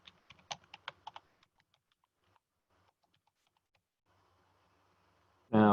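Short burst of typing on a computer keyboard in a quiet room, about a second of close, crisp key clicks, then a few isolated taps and near silence before a sudden louder noise at the very end.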